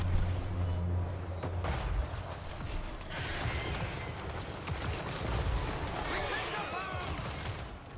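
Mortar fire and battle noise from the Warhammer 3 Total War video game, with dense overlapping blasts, rumbling impacts and clattering mechanisms forming a loud, chaotic wash throughout, while voices shout in the mix.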